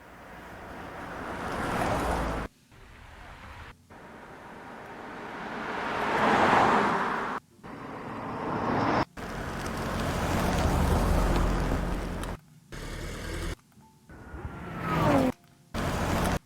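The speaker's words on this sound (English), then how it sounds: "I might want to just get a car passing just to emphasize it just a little bit more." A car passing by, added as a sound effect in sound design: broad roaring whooshes that swell and fade, cut into several separate segments with abrupt gaps, no speech.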